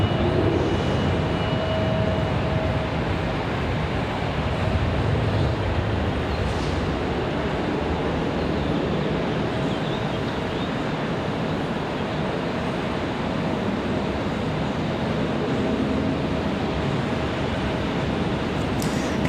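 An Embraer E-175 airliner departing at Raleigh-Durham airport gives a steady, broad jet roar heard from a distance, sustained throughout with little change in loudness.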